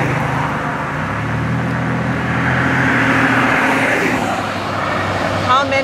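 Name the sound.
car passing by from the left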